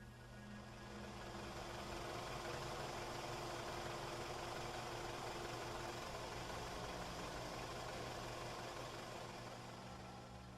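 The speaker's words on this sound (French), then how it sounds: "s'installe derrière le volant, moteur en marche" A parked car's engine idles with a steady, low, faint rumble that holds constant throughout, with no voices.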